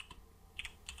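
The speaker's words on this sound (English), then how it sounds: "Press the Enter key." Keystrokes on a computer keyboard, a quick run of light clicking taps, close and quiet, with no voices.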